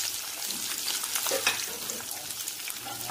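Chopped onions frying in a pan with chillies, cumin, fenugreek, mustard seeds and curry leaves for a brinjal gravy, giving a steady close sizzle with soft scraping stirs, no talking.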